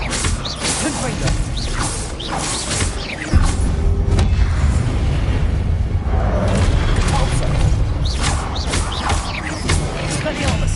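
The Confringo fire spell in Hogwarts Legacy detonates as a heavy booming blast with whooshing, mechanical rattles and loud continuous game combat noise, while a voice calls out spell names over the din.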